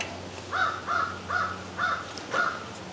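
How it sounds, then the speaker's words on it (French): Crows caw five times in an even, spaced rhythm, each harsh call distinct and moderately near over a low background hum. "Là, j'ai des corneilles un peu fatigants."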